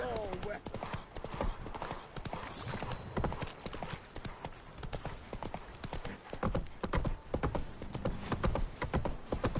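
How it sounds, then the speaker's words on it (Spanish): Horse galloping in The Witcher 3 video game, rapid rhythmic hoofbeats drumming steadily over terrain for the whole stretch, with a brief whinny near the start and someone talking over it. "Aquí ya no me deja correr más con el caballo."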